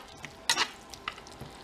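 Shrimp red curry with cilantro cooking in a pan gives a faint, soft sizzle with a couple of brief stirring scrapes, quiet and close.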